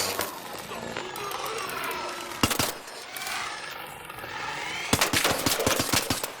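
Gunfire from a free gun in the video game Arc Raiders cracks out in sharp bursts. Single shots ring out early, then a rapid string of shots follows near the end over a constant game ambience, with a voice talking at moments.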